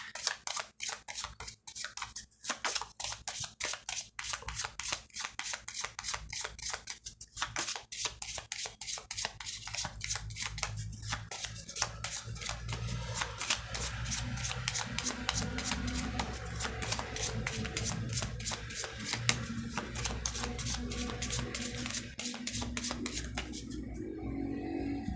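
A deck of Cigano fortune-telling cards gets shuffled by hand for a reading, a long run of quick, close, rapid riffling and flicking taps that carries on almost without pause.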